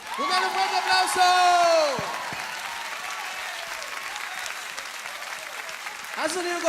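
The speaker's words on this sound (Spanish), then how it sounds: "Un fuerte aplauso." Applause from a church congregation after a worship song, with sung notes fading at the start, steady clapping and a few cheers through the middle, and music returning near the end.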